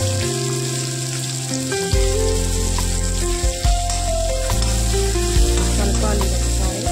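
Green chillies and onions hit hot oil in a pan and sizzle loudly and steadily, with occasional stirring clatter, close up and with no talking.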